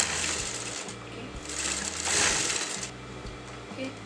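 Sewing machine stitching Patiala salwar fabric, a steady mechanical whirr in short runs with brief pauses, close and fairly loud, with no talking.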